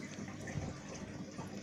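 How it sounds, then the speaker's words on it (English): Water tumbling through the PVC overflow pipe of a reef aquarium, a steady low rushing and gurgling wash that stays even and close for the whole stretch, with no voices over it. "So it's got a surface skin at the top there, water falls down, goes up through, overflows."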